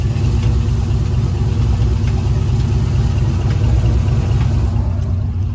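A 1993 Chevy Silverado pickup with a failing transmission runs steadily at close range, a loud, constant low engine rumble holding at idle without clear revving.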